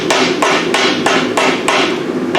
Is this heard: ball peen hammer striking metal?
yes